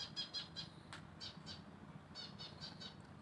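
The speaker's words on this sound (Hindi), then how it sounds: "सुन रहे होंगे चिड़िया की आवाज़ भी आ गई है वो" Faint, repeated high squawks from birds in a home garden come in quick bursts with short pauses, sounding a little distant over quiet background noise.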